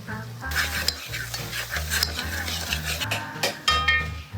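Chicken curry spices being stirred in hot oil, with a spoon scraping the pan in steady repeated strokes over a constant close sizzle and occasional clinks of metal.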